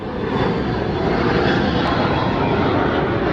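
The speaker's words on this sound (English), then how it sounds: "they take off with like F-16s all the time" A jet aircraft roars steadily from an Air National Guard base, loud and continuous, a sustained engine rumble with no talk.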